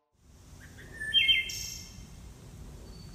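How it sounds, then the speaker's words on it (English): A field recording of local birds in a small town, with a few clear chirps and a short trilling song rising over a faint, steady outdoor background. "Oh, wow, that's like a ton of birds."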